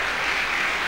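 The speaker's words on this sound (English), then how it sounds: "Clap for Entrepreneurship." Audience at a college convocation lecture in Lagos claps in a brief, dense burst of applause, sustained and even across the moment with no speech on top.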